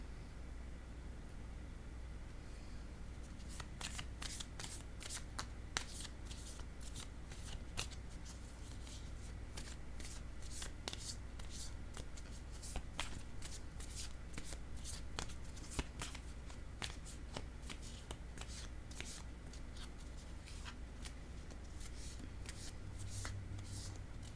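Tarot cards shuffled by hand up close, with a dense run of crisp riffling and slapping card sounds over a low steady background hum, no talking.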